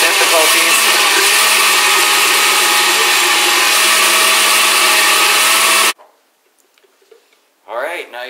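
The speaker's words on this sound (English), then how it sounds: "This is when we realize that this blender is back to technical difficulties." A blender whirs loudly and steadily while blending a milk smoothie, then cuts off abruptly, followed by near silence and a short burst of speech at the end.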